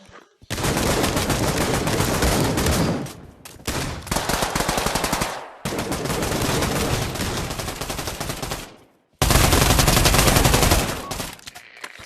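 Sustained automatic gunfire in the Pavlov VR shooter during a competitive league match, long loud dense bursts broken by brief pauses, close and dominant over faint talk.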